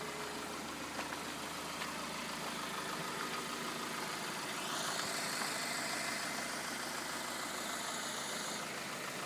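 An empty Fiat van cruises at highway speed, its engine droning steadily under constant road and wind noise, with a brief rising whine partway through.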